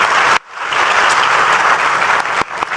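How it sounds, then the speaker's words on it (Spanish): Loud audience applause at a Bolivian presidential debate: dense, close clapping that breaks off sharply near the start, surges back and sustains, then dips briefly again near the end. "Me gasto unos segunditos en pedir un fuerte aplauso para Amalia Pando."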